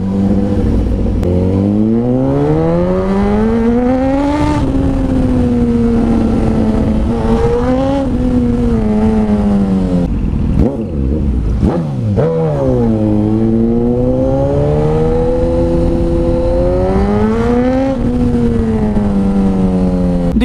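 A Suzuki GSX-S1000 motorcycle accelerates hard with its rear tyre skidding. The engine is loud and close, with repeated rising revs broken by quick gear shifts.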